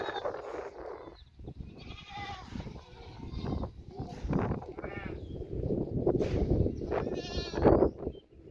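Goats on a farm bleat repeatedly, several loud, close calls overlapping across the stretch, with a herd of adults and small kids present and faint voices in the background.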